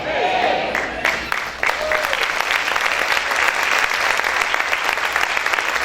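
A church congregation claps loudly and continuously, a dense wash of applause filling the room with a few voices calling out beneath it.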